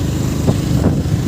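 Motorcycle ride through a flooded village in Duliajan, Assam: a steady engine drone with low rumble continues throughout the short stretch, loud and close, with no voices.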